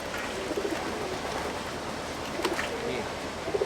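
Cooing of a Podomoro-breed pigeon kept for breeding, soft repeated coos at moderate distance over a steady noisy background, with a few brief calls toward the end.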